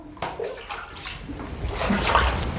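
Muddy items are scrubbed by hand in water, with steady sloshing, splashing and trickling close by at a moderate level and no talk over it.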